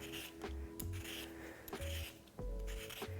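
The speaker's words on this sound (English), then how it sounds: "I'm gonna peel this just with a simple little potato peeler just to get the zest off." Short rasping scrapes of a small potato peeler shaving zest from a lemon, several quick strokes in an uneven rhythm, close and fairly quiet with no talking.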